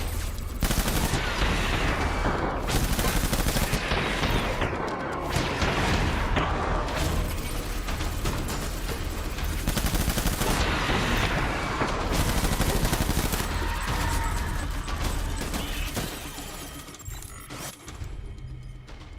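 Dense, sustained gunfire from the video game Death Stranding, rapid bursts and heavy booms running almost continuously at close range, loud throughout with only brief dips near the end.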